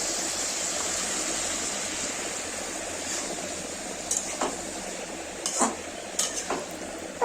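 Boiled potatoes with a little water are stirred in a pot, a soft low simmering hiss with a few faint spoon clinks and scrapes toward the end, quiet and close.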